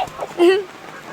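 A single short clucking call from a chicken on a poultry farm, close by, with faint background noise around it.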